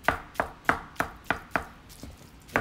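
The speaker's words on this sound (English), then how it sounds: "You just mix the ground beef in" Ground beef for chili being chopped and mixed in a pan, with about eight evenly spaced sharp chopping hits roughly every third of a second, close and distinct over a faint background.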